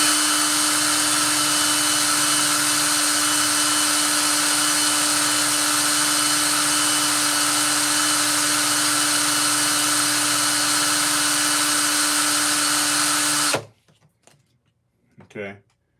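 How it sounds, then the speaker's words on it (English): Steady motor whine of a rotary tool sanding the edge of a silver quarter coin ring, loud and continuous for about thirteen seconds, then cutting off to near silence with a brief soft sound. "I go through all the grit to kind of sand that area up"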